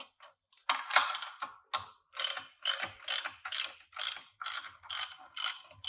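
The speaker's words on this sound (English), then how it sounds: "So we'll go ahead and take those loose, all 4 bolts." A ratchet wrench loosens the four flange bearing bolts on a Radial Pro shaker drive, giving about a dozen close, evenly paced ratcheting bursts of rapid metallic clicks, with no talk.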